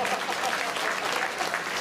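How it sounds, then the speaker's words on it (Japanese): Audience applause at the Turtle Talk show at Tokyo DisneySea, a steady, dense round of clapping from the crowd, fairly loud and unbroken for the short stretch. "やるじゃないか、拍手くれぜ。"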